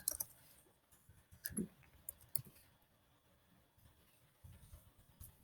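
Soft, scattered clicks of keys being typed on a computer keyboard, faint and irregular in a quiet room.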